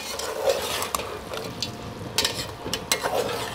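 Chicken being stirred in a pan for a murgi and tinda salan, with a soft continuous sizzle and intermittent scraping, clicking strokes of a spoon close by.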